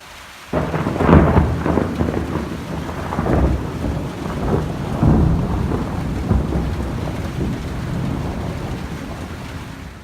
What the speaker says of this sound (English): there was a thunder and lightning storm